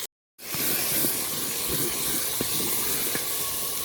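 Four tomatoes and four green chillies hit a hot handi pan for chicken masala, setting off a sudden loud, steady hiss and sizzle that holds without a break after a short silence.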